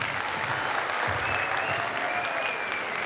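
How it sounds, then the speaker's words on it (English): An audience at a college event gives a steady round of applause, dense even clapping filling the hall throughout, moderately distant. "please give a big round of applause for ma'am."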